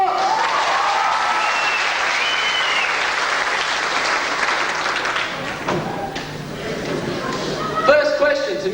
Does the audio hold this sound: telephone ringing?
no